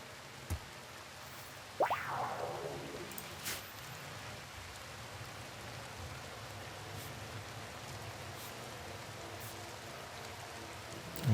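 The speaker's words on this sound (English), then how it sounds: "It's raining outside." In the video game RimWorld, steady rain hisses softly and evenly throughout, a quiet wash with a few faint brief knocks and a short chime-like sweep near the start, with no talking.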